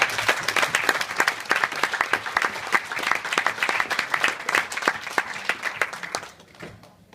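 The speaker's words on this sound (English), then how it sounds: "Let's give them another round of applause" Wedding guests applaud the page boys and ushers during the best man's speech, a dense sustained round of clapping that fills the room, then thins and fades out near the end.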